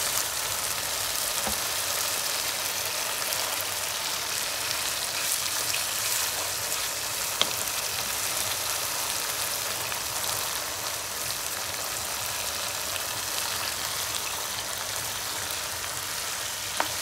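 Fish frying in cooked-down spice masala, a steady, dense sizzle that crackles evenly and unbroken throughout, close and moderately loud, with no voices.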